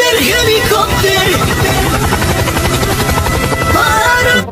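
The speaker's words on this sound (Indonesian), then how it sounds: "Kita lihat di sebelahnya ada helikopter tempur." A toy combat helicopter whirs and buzzes loudly and continuously up close, its rotor-like chopping steady before cutting off at the end.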